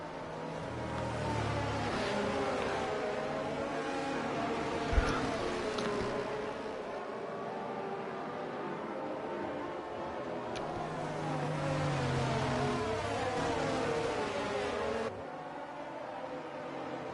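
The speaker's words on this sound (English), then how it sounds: "Look at that Aston Martin safety car, it looks so good." An Aston Martin safety car in an F1 video game at Hungary runs with a continuous engine drone, its pitch rising and falling through gear changes, while people talk over it.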